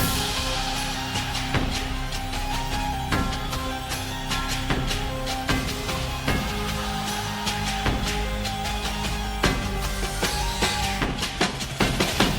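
A marching band sample used in a rage beat plays dense brass and drums with sharp repeated percussive hits, loud and continuous with no voices.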